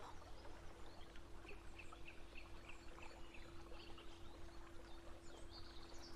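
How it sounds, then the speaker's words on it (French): At dusk in a garden, a bird repeats a short chirping call in a steady series. The calls sound distant and faint over a quiet background with a steady low hum. "Les oiseaux chantent de moins en moins. Leur voix s'espace."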